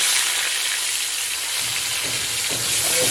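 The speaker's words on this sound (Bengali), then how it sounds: "আমি এখন ফলি মাছটা ভেজে নিচ্ছি" Pholi (featherback) fish frying in hot oil, a steady broadband sizzle and hiss that holds throughout at close range, with faint low stirring or bubbling toward the end and no voices.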